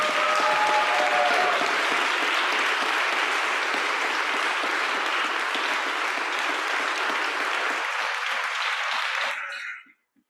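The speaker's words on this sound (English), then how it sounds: "So if we could all clap for the people standing." An audience at a Scout Court of Honor breaks into sustained, dense applause that stays full and even for several seconds, then tapers quickly into a few last claps and silence.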